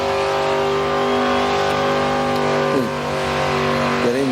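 A race car engine at a Summernats event, fitted with a Detroit locker and a four-speed top loader, holds a loud, steady high-rev drone around 6,000 rpm without missing a beat, with brief pitch dips near the end.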